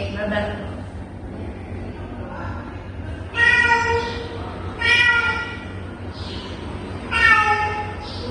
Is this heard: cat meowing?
yes